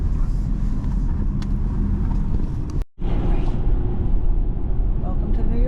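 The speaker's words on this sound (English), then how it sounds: "and lots of traffic." Car traffic on a dark evening road in New York, a loud continuous rumble of engines and tyres that cuts out briefly, then resumes.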